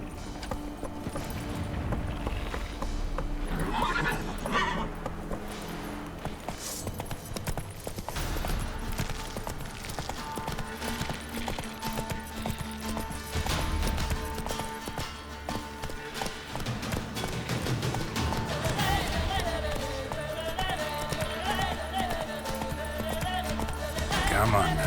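Roach, the horse in the video game The Witcher 3, gallops with fast, rhythmic hoofbeats under continuous voices and game sound, with an occasional snort or whinny.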